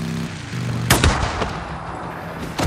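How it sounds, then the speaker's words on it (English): Sniper fire erupts during an ambush in Days Gone, a loud sharp crack landing about a second in over a steady background rumble, with another burst at the very end. "Sniper ambush, oh god damn it."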